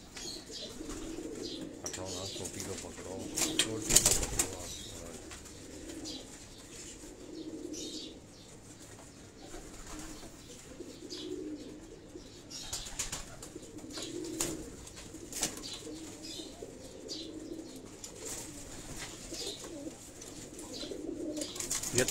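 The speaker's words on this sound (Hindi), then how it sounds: "ये वो कबूतर मैं आपको दिखा रहा हूँ।" Soft, repeated cooing of flying pigeons kept in cages on a rooftop in Karachi, low and steady in the background, with someone talking over it and a brief flutter or clatter near the start.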